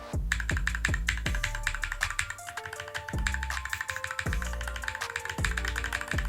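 Close, rapid typing on a mechanical keyboard fitted with Glorious Holy Panda tactile switches, giving a run of deep, solid keystroke clacks in an irregular rhythm with no talking.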